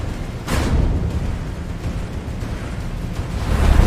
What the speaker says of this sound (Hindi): धमाके के साथ भारी लोहे का दरवाजा अंदर की तरफ गिरा